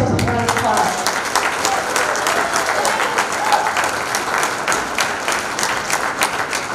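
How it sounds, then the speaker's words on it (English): Students and audience at a school program applaud the performers on stage; dense, loud clapping from a large crowd continues throughout with a few faint voices mixed in. "Give yourselves a round of applause."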